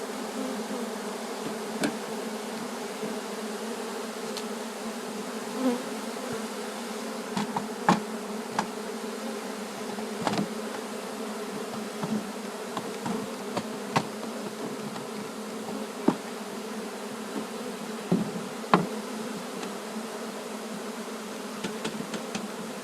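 A swarm of roughly 25,000 honey bees buzzing as a dense, continuous drone throughout, close and steady, with scattered small taps and knocks from the hive box and no talking.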